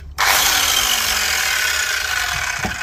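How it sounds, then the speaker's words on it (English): A circular saw, a brute-force power tool with no soft start, spins up abruptly and whines steadily and loudly on a construction site, its pitch sliding slightly as it runs, with a couple of low thumps near the end. "So circular saws"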